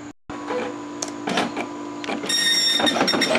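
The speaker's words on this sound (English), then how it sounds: "It still prints the 9." An Okidata Pacemark 3410 wide-format 9-pin dot matrix printer prints close up, with rapid buzzing head passes and bursts of mechanical chatter that grow louder and denser toward the end.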